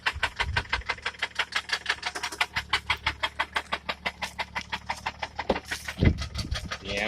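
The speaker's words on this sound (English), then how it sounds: "People want to hear the engine?" Engine of a 2011 BMW 335i M-Sport running with a noticeable knock, a steady rapid rhythmic ticking and pulsing heard up close throughout, with a brief louder thump near the end.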